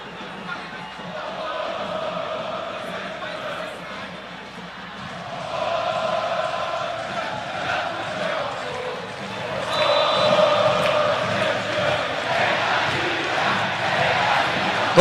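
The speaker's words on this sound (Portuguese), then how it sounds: "Torcida fazendo a festa aqui no estádio Moisés Lucarelli" Football crowd at Moisés Lucarelli stadium during a Ponte Preta match, a broad sustained roar of fans chanting and celebrating that swells louder partway through and stays dense and continuous.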